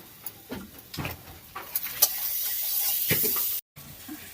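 Water poured into a hot pan of spiced curry made with baim eel-fish from a Sundarbans river, cooked village style, sets off a steady hissing sizzle that swells for a few seconds and cuts off abruptly.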